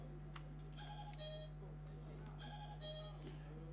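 Quiz contestants in a university business-knowledge semifinal ring their buzzer bell, giving two short bursts of bright ringing tones spaced about a second and a half apart over a steady electrical hum and background talk.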